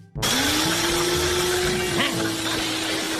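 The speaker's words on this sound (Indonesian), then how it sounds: "Mendengar suara berisik dari blender yang dinyalakan, SpongeBob si purba terlihat sangat ketakuta" A blender switched on in a SpongeBob cartoon, a sudden loud motor whir that starts abruptly and holds a steady droning pitch, with faint speech-like sounds partly buried beneath.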